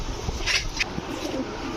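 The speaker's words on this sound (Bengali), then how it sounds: "এটা হচ্ছে মাদি কবুতর" A female Rajshahi Sobji Chuithal pigeon gives short soft coos, close and brief, over faint background noise.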